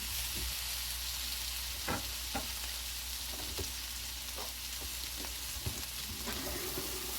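Breakfast potatoes sizzle steadily in a cast iron skillet, a constant frying hiss punctuated by several sharp clicks and scrapes of stirring, no voices present.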